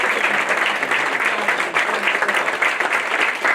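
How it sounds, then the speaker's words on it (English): Steady, dense applause from an audience at a 2024 Wagner Athletics Hall of Fame ceremony fills the hall, loud and continuous throughout with no pauses. "how about one more round of applause for the Wagner family?"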